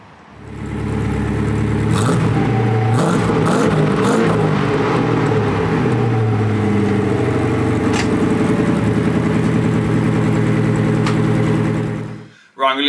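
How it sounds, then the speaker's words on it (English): A Porsche 928 V8 idles steadily after a mixture adjustment, a loud, close, continuous engine drone holding even for about twelve seconds before cutting off. "Boy, does that make a difference sorting out the tick over though"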